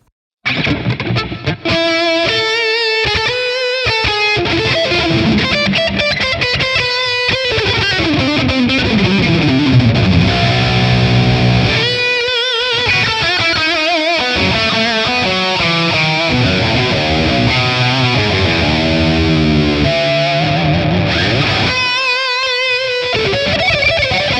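A high-gain distorted electric guitar plays a lead solo through a ToneX ONE amp model with plate reverb. It plays loud and continuous with fast runs, bends and sustained notes that ring and wash out.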